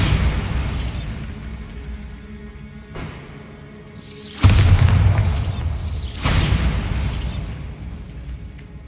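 A Bombarda spell in Hogwarts Legacy detonates with deep booming blasts, two strong impacts that roll into sustained rumbling and debris, loud and close over ambient game sound.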